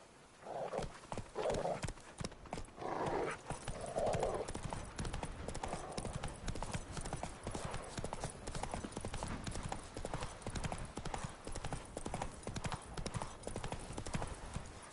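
Geralt's horse Roach gallops in Witcher 3, its quick, rhythmic hoofbeats loud and steady for the full stretch, with a snort or whinny early on and faint voices now and then.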